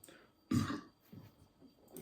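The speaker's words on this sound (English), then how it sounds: "The lager burps." A single throaty burp follows a sip of BrewDog Oktoberfest lager, a short rough gulp of sound set between quieter breathy noises, close to the microphone and fairly soft.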